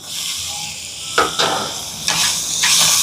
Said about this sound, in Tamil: இப்போ இந்த வெங்காயம் எல்லாம் நல்லா வதங்கட்டுது